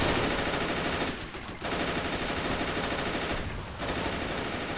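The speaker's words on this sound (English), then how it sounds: "Oh, look at that beast of an AT rifle." Dense, continuous crackle of automatic gunfire from a WWII battle video game set on the outskirts of Stalingrad, loud and sustained with two brief dips, no voices.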